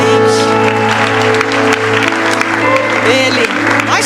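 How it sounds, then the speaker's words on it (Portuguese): A church congregation at a São Paulo service applauds loudly, a dense clapping wash under strong sustained music or singing tones that fill the whole clip. "Vamos aplaudir novamente."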